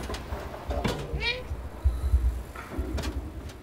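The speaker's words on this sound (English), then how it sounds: "I like how the meow and the scratches are not just for fun" A cat meows in the video game Stray, a short rising call near the middle with soft scratching and thuds around it, set against a low rumbling game backdrop.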